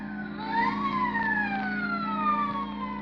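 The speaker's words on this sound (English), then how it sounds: "the police whistle and the prowl car sirens serenade the sleeper" Police sirens wail continuously, their pitch sweeping up and down in overlapping tones, fairly loud and steady throughout with no voices.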